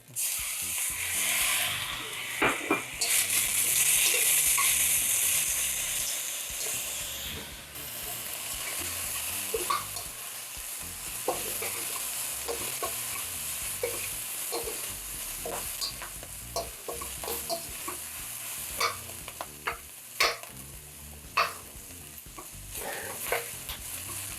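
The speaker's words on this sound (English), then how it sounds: "Throw in the garlic." Garlic sizzles in a hot pan, with a loud hiss at first that settles into steadier frying. Sharp scraping and stirring clicks from the pan come through the sizzle.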